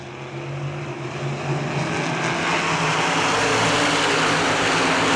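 Supermodified race cars accelerate after the green flag at an ISMA race, a broad engine roar building steadily in loudness and climbing in pitch as the field gets going, with no talk over it.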